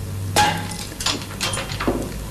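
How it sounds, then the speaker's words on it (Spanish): A hammer strikes a rubber ball frozen in liquid nitrogen, and the ball shatters with a sharp, close crack. A few lighter clinking impacts of scattering fragments follow in a quiet room. "voy a tomar esta pelota y la golpeo con el martillo"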